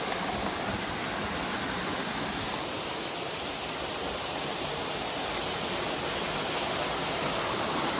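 Fakir Murong waterfall pouring into a natural pool, a loud, constant broadband rush of falling water heard up close and alone.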